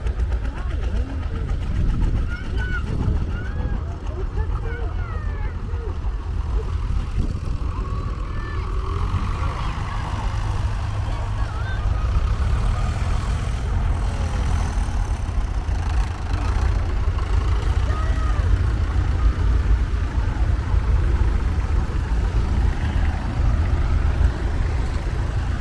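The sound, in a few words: vintage tractors driving off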